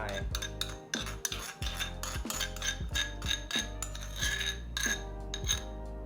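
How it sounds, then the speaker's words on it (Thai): A spoon clinks and scrapes against a bowl or blender jar while yogurt goes into a high-protein breakfast smoothie, a run of sharp metallic taps and clatters close up, without speech. "ต่อมานะครับผมก็จะใส่ พระเอกอีกหนึ่งตัวก็คือโยเกิร์ตนั่นเองนะครับ"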